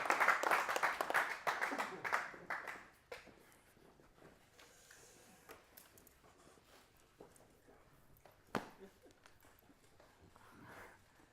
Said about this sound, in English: give yourselves a round of applause for being so amazing